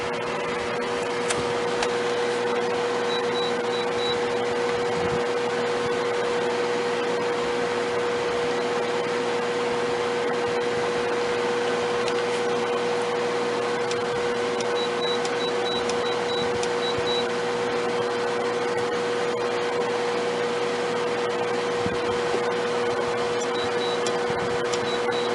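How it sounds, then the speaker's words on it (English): A constant mechanical hum and airy whoosh from an RV air conditioner run unbroken throughout, with a faint periodic high beep now and then and no voices. "Now I'm going to switch it to air conditioning."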